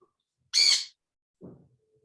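Pet birds indoors, just waking up, give one sharp, harsh squawk, then a brief lower rasping call a moment later, close by in a quiet room.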